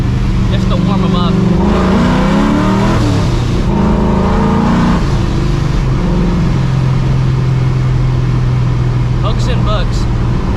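A procharged 560-horsepower 2V Mustang GT pulls hard, its engine note climbing loud and close across several surges, with people talking over the roar.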